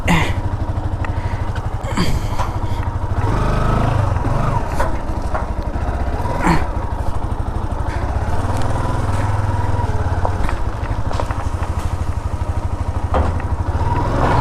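A Yamaha R15 V2 motorcycle runs steadily and close, its engine droning loudly throughout with a few clunks and thumps as it pulls away.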